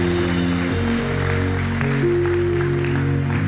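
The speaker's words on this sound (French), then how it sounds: "Est-ce qu'on peut nous donner une bonne main d'applaudissement?" A congregation claps during a Sunday church service, the steady patter of applause blending under sustained music tones that hold throughout.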